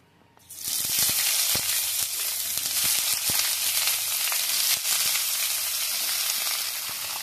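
Washed cauliflower stems and potatoes go into hot oil, starting from near quiet and bursting into a loud, continuous sizzle and crackle that stays strong throughout.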